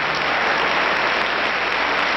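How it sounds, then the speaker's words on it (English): An audience turning to applaud President Nixon and his family, a thick, even wash of clapping from a large crowd, loud and unbroken. "Now the members of the audience are turning and applauding the president and his family."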